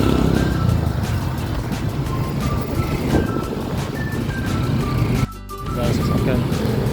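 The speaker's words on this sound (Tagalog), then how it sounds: "maraming sasakyan lumadaan dito sa S-Bank Road" Cars and other vehicles pass along S-Bank Road beside a river in the afternoon, rumbling steadily at close range while voices talk over the traffic noise.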